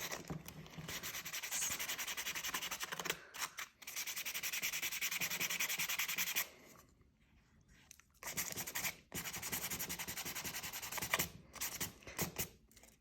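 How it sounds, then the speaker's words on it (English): Steady abrasive rubbing of sandpaper against a leather edge, continuous strokes with a brief pause midway, close and fairly loud. "I'm going to go over it again with the sandpaper to kind of even everything out"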